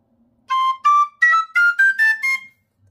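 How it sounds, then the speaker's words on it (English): A penny whistle in C plays a short run of seven bright, breathy notes, each held briefly and climbing in pitch, loud and close against silence. "Now these Penny Whistles, I love these, but they are louder."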